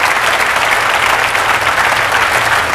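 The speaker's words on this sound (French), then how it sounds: "Merci de l'applaudir avec David." Steady, dense applause from a concert audience greeting the performer, a continuous wash of clapping throughout with no break.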